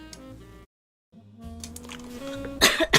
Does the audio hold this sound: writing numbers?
no